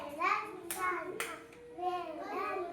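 Young children clap their hands in a few quick sharp bursts at close range, with a voice speaking between the claps.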